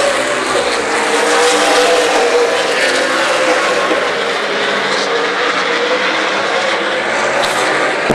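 Race cars of the Main Event Racing Series roar around Dixie Motor Speedway during the Draper 100, a loud, sustained engine drone from the field of cars that stays close and constant with no speech.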